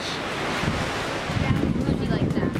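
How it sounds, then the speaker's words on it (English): Ocean waves wash onto a Maui beach in Hawaii, a rough surging rush mixed with wind buffeting the microphone, and voices murmur faintly underneath. "We are here at the beach."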